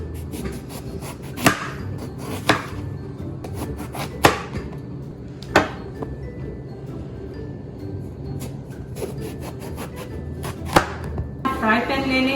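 Knife chopping an eggplant into rounds on a cutting board, several sharp separate thuds spaced about a second apart over a low steady kitchen background, close and fairly loud.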